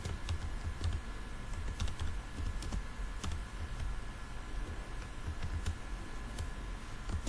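Fingers type on a computer keyboard while a C program is written, producing a steady stream of quiet, irregular key clicks with occasional sharper taps and no talking.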